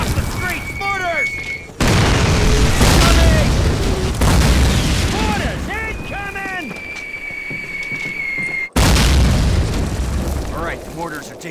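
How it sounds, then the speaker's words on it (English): Mortar shells explode repeatedly during a World War II street battle in the PC game Call of Duty, loud booms rolling over continuous battlefield din with in-game shouting voices and whistling sounds in the mix. "The Germans are coming across the street! Mortars!"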